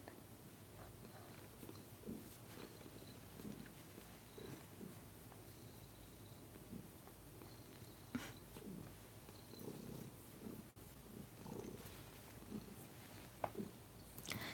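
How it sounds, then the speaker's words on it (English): A soft, steady purr rumbles quietly and continuously at close range, with occasional faint rustles and small clicks over the low hum. "Basil, I hear you purring."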